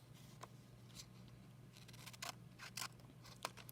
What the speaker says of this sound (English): So now I'm cutting across the top of the triangle